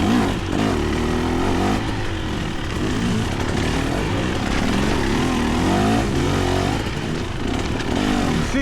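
A dirt bike engine, a Fantic XE300 or KTM 300XC-W two-stroke, roars loud and continuous while riding, with steady revving and pitch swings under wind noise.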